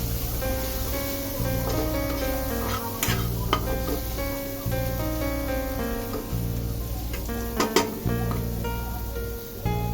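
Shapla (water lily) stems fry in a pan with a continuous close sizzle, punctuated by occasional scrapes and clinks of stirring against the pan.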